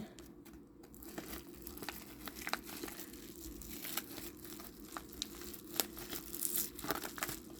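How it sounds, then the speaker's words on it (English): Crinkling and tearing of plastic wrapping around a Dooney & Bourke handbag package as it is cut and torn open, steady close rustling with sharp crackles and rips, fairly quiet, no talking. "So I'll probably do the same, cut a little bit and tear, just to be on the safe side."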